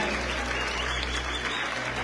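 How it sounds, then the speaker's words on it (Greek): Loud, dense applause from an audience at an outdoor dance-song festival in Thebes, a steady wash of clapping that fills the whole stretch without pause, cheering for the orchestra. "Καταρχήν θέλω μεγάλο χειροκρότημα στην ορχήστρα μας."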